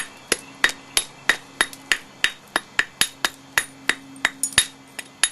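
A novaculite laurel leaf point is flintknapped by pressure flaking, producing a close run of about eighteen sharp, bright ticks and snaps at an uneven, quick pace with no talk.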